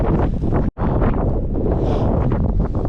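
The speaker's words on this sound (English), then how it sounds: "Get out of this wind a bit" Strong wind buffets the microphone on the exposed slopes of Cadair Berwyn, a loud, roaring rumble that is constant apart from one brief dropout.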